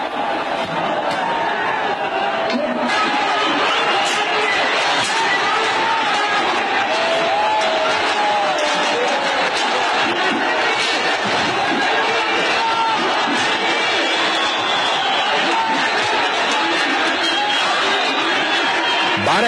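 Large, agitated crowd in a dense, continuous roar of many voices, shouting and clamoring together throughout at steady loudness with no pauses.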